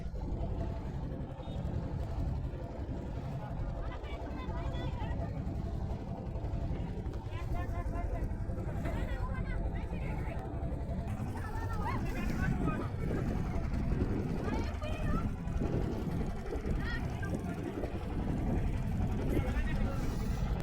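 Motorboat travelling along the Jamuna River near the bank, a continuous engine drone and water wash running throughout with voices talking over it.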